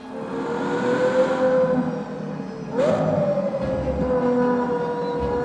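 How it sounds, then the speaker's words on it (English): A 2024 Ferrari Purosangue's engine drones with a steady, tonal hum, then surges sharply and eases back into a smooth, sustained note, moderately close with no talking. "is the sound of the brand new Ferrari Purosangue"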